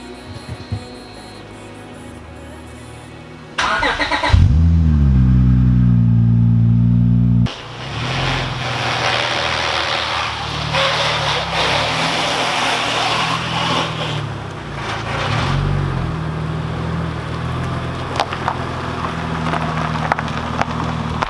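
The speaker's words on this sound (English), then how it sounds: "let's do a cold start" Acura TL-S engine cold start: the starter cranks briefly, then the engine catches with a loud rising flare and settles into a steady idle that keeps running close by.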